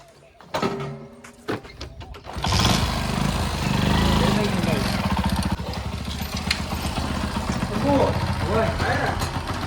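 A motorcycle engine starts up and keeps running steadily close by for several seconds after a few knocks and bumps, with people talking over it.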